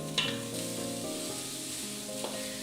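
Sliced yellow onions fry in a pan, a soft continuous sizzle with a faint stirring scrape near the start, close and even, with no talk.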